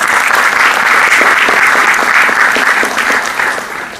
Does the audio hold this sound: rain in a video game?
no